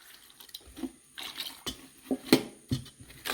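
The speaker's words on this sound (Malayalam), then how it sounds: "ഇതിന് വേവേണ്ട വെള്ളം ഒഴിച്ചിട്ട്" Water splashes and gurgles in short irregular bursts as it is poured into a cooking pot of dried prawn and drumstick curry, close by and moderately loud.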